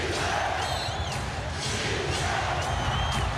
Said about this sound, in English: which could barely be heard over the din of this crowd